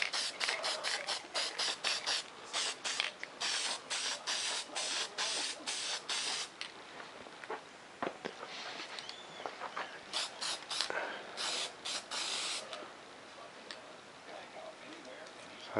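A spray can hisses in repeated short bursts while putting a coat onto black foam board for a model F-117 stealth fighter, the bursts coming in a fast rhythm with brief pauses and a ticking rattle between them.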